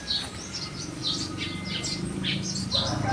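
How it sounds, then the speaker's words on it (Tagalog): Many birds chirp outdoors, with repeated bright, scattered tweets at moderate distance over a low, constant background rumble. "daming ibon, no?"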